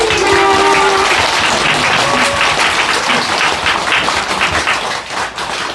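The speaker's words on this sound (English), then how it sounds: "Let's offer a big round of applause to God" A congregation at a religious sermon gives a loud, dense round of applause that fills the space steadily, thinning slightly at the end, with no talk over it.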